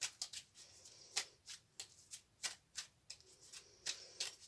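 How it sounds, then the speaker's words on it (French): Oracle cards being shuffled and handled during a card reading, a run of crisp riffling snaps and flicks at an uneven rhythm, close and fairly quiet with no voice. "je prends encore une carte de l'intuition et on prendra une carte de l'archange Raphaël"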